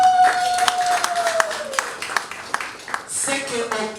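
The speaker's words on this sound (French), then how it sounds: "Est-ce qu'on peut applaudir Fifi Masuka?" Crowd at an award ceremony applauds Governor Fifi Masuka, scattered claps ringing out under a sustained voice and music-like tones.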